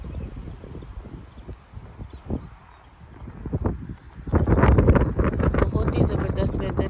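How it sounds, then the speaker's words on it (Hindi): Cool wind gusting across the microphone at a lakeside park, a steady breezy rush that swells louder and rougher in the second half, with a voice speaking now and then. "ठंडी ठंडी हवा चल रही है"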